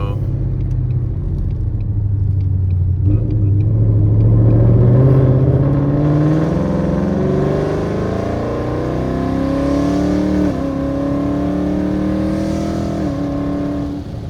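A car fitted with a Roush exhaust accelerates on a highway, its loud close engine tone climbing and holding through the pull with a deep rumble underneath.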